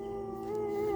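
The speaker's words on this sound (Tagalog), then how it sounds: "Katakot naman ang ungol ng aso na ito." A dog howls in a sustained, steady, wavering tone, faint and somewhat distant, at an early-morning Misa de Gallo church service.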